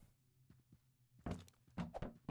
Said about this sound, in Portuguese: A gente vai desbloquear esse armário aqui.